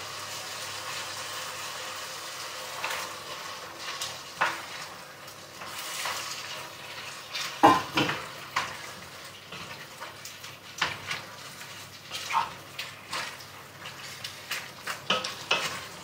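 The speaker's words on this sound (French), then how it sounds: "Donc la viande, vous la mettez dans le faitout, dans votre poêle à wok, vous mélangez bien" Lamb meat frying and being stirred with tomatoes in a wok for a quick lamb sauté, giving a steady close sizzle broken by repeated scraping and clattering stirs, with no talking.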